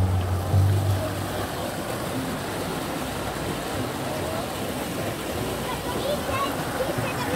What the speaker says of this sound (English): This park has some beautiful little waterfalls going around it.